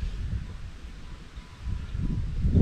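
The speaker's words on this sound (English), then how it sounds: "Look at this damn wind." Gusting wind buffets the microphone on a fishing boat out on Saginaw Bay, low rumbling bursts that swell and drop, growing louder toward the end.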